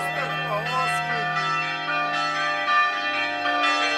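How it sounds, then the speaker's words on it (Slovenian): Monastery church bells ringing in northern Bosnia, sustained overlapping metallic tones with repeated strikes that sound fairly close and fill the whole stretch. "Evo, zvonci so tam gor, se nabijajo."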